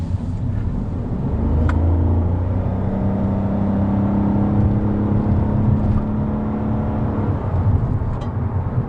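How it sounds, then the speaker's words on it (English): A 2020 Toyota Yaris hybrid climbs a hill, its engine droning in a steady, rising hum with road and tyre noise inside the cabin, loud and continuous. "This used to be a hybrid bugbear, powering up a hill."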